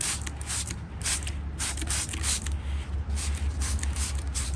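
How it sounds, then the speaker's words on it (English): Hydrogen peroxide sprayed onto an orchid after fungal treatment, a series of short hissing bursts from a spray bottle at close range, repeated in an irregular rhythm over a low background hum. "We're giving it a fairly good spray,"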